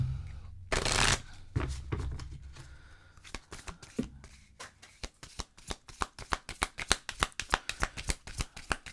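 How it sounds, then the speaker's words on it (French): Oracle cards being shuffled by hand during a tarot reading, starting with a loud riffle and then a long run of quick, crisp card slaps close up, with no talking. "On va aller chercher 4 cartes oracles."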